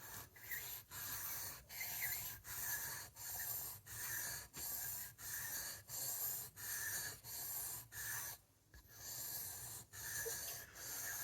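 An old TEW knife, repaired for a chip and kick, drawn steadily along a sharpening stone, making a repeated rasping rub of about twelve even strokes with brief pauses between them and no talk.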